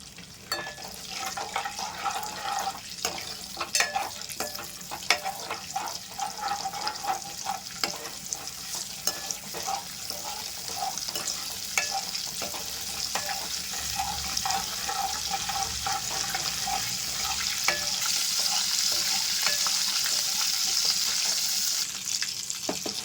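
Whole spices, bay leaf and a star anise petal, fry in hot oil with a steady, close sizzle and frequent stirring scrapes, growing slightly louder and hissier toward the end.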